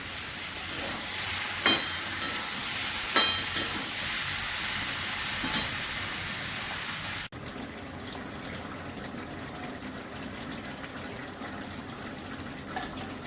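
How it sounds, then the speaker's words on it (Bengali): Water goes into a sizzling pan of potato, pointed gourd, pumpkin and prawn curry; a steady close frying hiss with a few clinks gives way abruptly to a softer bubbling simmer, with no talk. "এবার একটু জল দিয়ে দেবো।"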